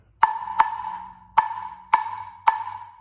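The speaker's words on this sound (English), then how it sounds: "If you recall the 2-3 clave that I taught in a lesson a couple months ago" Five crisp, pitched clicks beat out a 2-3 clave rhythm on timbales, a pair of strikes followed by three evenly spaced ones, each with a short metallic ring, close and alone without voices.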